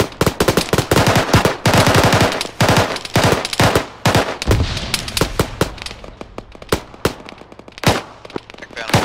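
Dense automatic gunfire crackles in the Arma 3 war game, rapid loud bursts and single shots overlapping in a fast, uneven rhythm, close and sustained with a brief lull near the middle.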